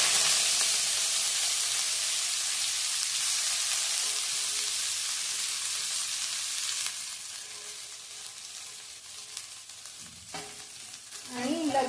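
Loud, steady sizzle of chopped dill with garlic and turmeric frying in hot oil, a broad hiss that fades somewhat midway before a few stirring scrapes near the end.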